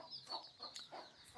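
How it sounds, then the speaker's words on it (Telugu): A hen with chicks around a house clucks softly in a few short, uneven calls, distant and quiet against low background noise. "ఇదొక కోడి"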